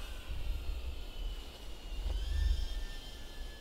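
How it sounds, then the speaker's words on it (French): A small BETAFPV FPV drone whines through the air, its high-pitched motor tones holding steady and then sliding in pitch over a rumbling wind-like bed. "franchement, pour un petit drone, il se débrouille bien"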